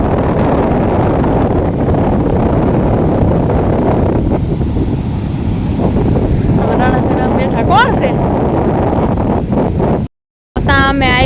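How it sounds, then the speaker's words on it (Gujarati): Loud, roaring sea surf crashes continuously onto the shore at Madhupur beach with heavy wind buffeting, and faint voices come through near the end. "અહીંયા અવાજ બહુ આવે છે દરિયાનો"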